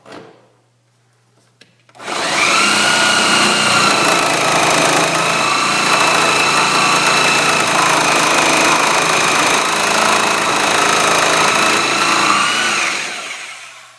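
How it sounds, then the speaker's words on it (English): A Sawzall reciprocating saw runs loud and steady at close range, a continuous buzzing roar that starts abruptly after a short quiet lead-in, holds for about eleven seconds, then winds down. "now let's try the Sawzall"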